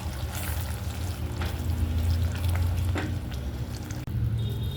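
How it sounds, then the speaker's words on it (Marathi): Water poured into a masala gravy for dum aloo with yogurt, a steady low rushing trickle lasting several seconds, close and fairly quiet with no talk. "थोडंसं पाणी ॲड करून घेतलं आहे मी याच्यात."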